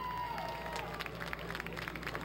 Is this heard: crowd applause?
yes